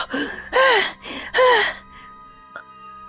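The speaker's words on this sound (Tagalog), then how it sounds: "Hingal na hingal ka." A woman pants heavily after running, with three or four loud, harsh gasping breaths close by, then the breathing fades to quiet.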